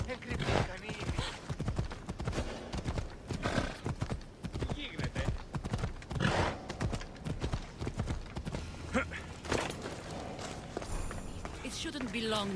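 Horse hooves clip-clop at a riding pace in Assassin's Creed Odyssey, a steady rhythmic gait under game music and spoken dialogue.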